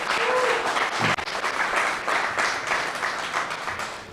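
An audience at a launch event in Minnesota gives a round of loud, dense applause that carries on steadily for a few seconds.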